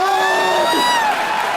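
Studio audience at a comedy show cheering and whooping, with a sustained rising shout over broad crowd noise and some clapping, loud and continuous for the whole moment.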